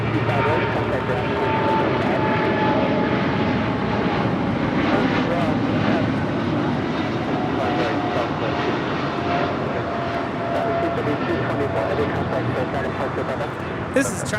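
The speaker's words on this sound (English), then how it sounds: "This is China Airlines Cargo 5224 departing to Miami on a 777 freighter." China Airlines Cargo Boeing 777 freighter departing LAX for Miami, a loud, sustained jet engine roar that holds steady and slowly fades, with voices talking over it.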